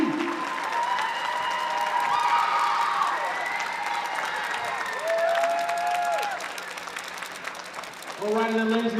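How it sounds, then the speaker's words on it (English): A crowd at a college basketball spirit night applauds for the coach, scattered clapping and cheers under a loud announcer's voice, with a strong tonal sound like a whistle or horn sliding across the mix. "just another round of applause for the amazing Coach G"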